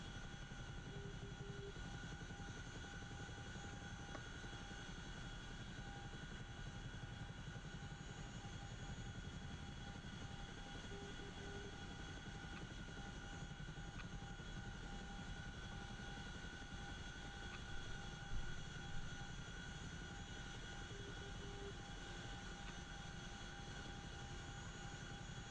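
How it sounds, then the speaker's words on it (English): A Chinook helicopter in the DCS World flight simulator flies with a constant, unbroken rotor and engine drone that holds steady and moderately quiet throughout, without any talk. "This helicopter."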